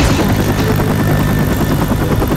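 A loud, continuous helicopter rotor chop with engine drone from the video game Left 4 Dead 2, steady and close throughout.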